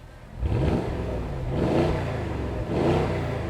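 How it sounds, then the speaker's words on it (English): A 2014 Porsche Cayenne Turbo 4.8 V8 engine revs up three times in quick succession against the soft limiter, each rise swelling into a deep, throaty exhaust roar before dropping back, close and loud. "You get this really nice throaty sound from the exhaust system"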